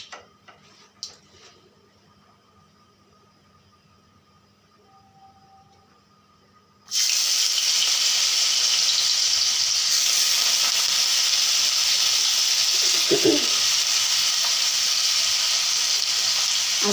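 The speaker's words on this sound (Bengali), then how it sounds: "এই যে কড়াই বসিয়ে দিয়েছি, তার মাঝে তেল অল্প দিয়ে দিচ্ছি" White cooking oil in a wok is quiet for about seven seconds, then bursts into a loud, steady sizzle and hiss that carries on to the end, with a brief clatter partway through.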